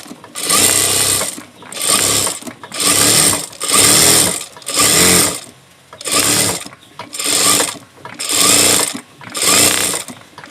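A sewing machine stitches the neckline of a maxi dress in nine even bursts of rapid whirring, each about a second long and separated by short pauses, loud and close with no talk.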